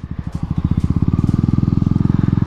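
KTM Duke 250 motorcycle engine running with its exhaust removed, a loud, close, raw idle of rapid regular pulses that speeds up slightly and holds a steady throbbing beat.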